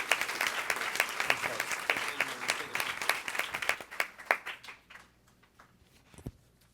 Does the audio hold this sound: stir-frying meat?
no